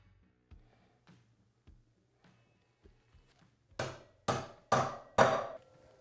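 Light metallic taps, then four loud, sharp hammer blows in steady rhythm on a motorcycle wheel bearing, each ringing briefly, the last ones changing pitch as the bearing seats fully.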